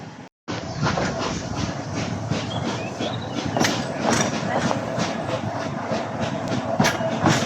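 A steam train on the Isle of Man running steadily nearby, with a continuous rumbling roar and rhythmic clattering of wheels over the track, heard from aboard.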